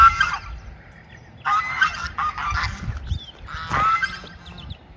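A goose by a lake honks and squawks in several loud, raspy bursts close by, with short pauses between calls over faint outdoor background.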